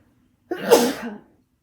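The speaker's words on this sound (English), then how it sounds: "now I'm sneezing" A single loud human sneeze, one sharp burst with a short breathy tail, heard up close against an otherwise silent background.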